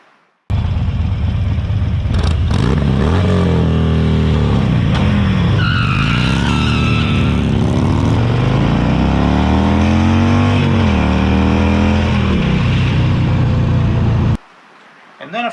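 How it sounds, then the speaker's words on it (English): A Harley-Davidson motorcycle rumbles loud and steady throughout, the engine pitch rising and falling as the rider rolls the throttle on and off, with heavy wind buffeting over it before cutting off abruptly near the end. "my first ride on a Harley Davidson"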